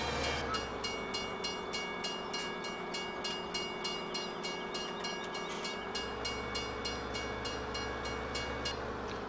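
A train rolls past steadily and loudly in Farming Simulator 17, a continuous rumble with a tonal hum that shifts in pitch partway through, filling the whole stretch without talk.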